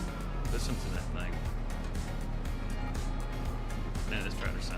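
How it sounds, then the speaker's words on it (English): A tractor engine in Farming Simulator 25 drones with a deep, steady low rumble and mechanical hum. The engine runs unbroken under ongoing talk. "Man, this tractor sounds awesome."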